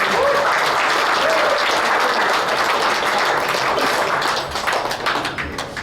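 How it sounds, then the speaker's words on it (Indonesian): Steady, dense applause fills a hall at an installation ceremony for a women's organization board in Jakarta, loud and sustained throughout with faint voices underneath, tapering slightly at the end. "Kita sambut dengan tepuk tangan."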